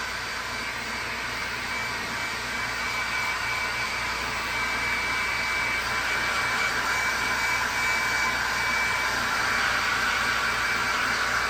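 A blow dryer running on low heat and high speed to dry a rosewood guitar surface gives a steady, loud, close whooshing roar that holds without a break throughout, with no talking.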